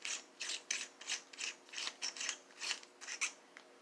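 A Vortex Crossfire II 4-12x44 rifle scope turret is turned click by click, a quiet, close series of about a dozen crisp ratcheting clicks in a fairly even rhythm.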